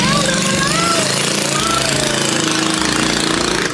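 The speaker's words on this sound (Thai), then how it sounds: "เธอได้ยินเสียงมอเตอร์มั้ยเรือกําลังจะมาแล้วเขาจะผ่านมาหาเราแล้ว" A boat's outboard motor drones steadily as the boat approaches along a canal, a continuous loud engine rumble with faint voices mixed beneath it.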